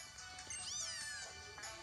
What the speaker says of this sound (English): He says meow.